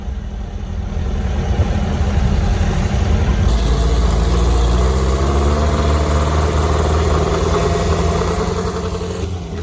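A green dune buggy with a racing history idles at a gathering of buggies, a loud, close, steady engine rumble that shifts in tone midway, with no voices over it.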